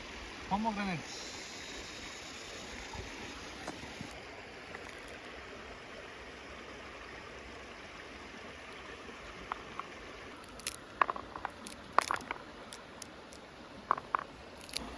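A riverside stream in a Western Ghats forest flows with a steady, soft broadband rush throughout, joined near the end by scattered sharp clicks and taps close by.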